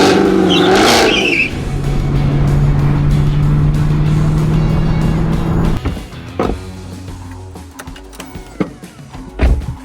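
A Chevrolet Camaro ZL1 drives off with a loud, sustained engine roar that holds steady for several seconds, then drops away into quieter idle rumble and scattered mechanical knocks, heard close by and alone.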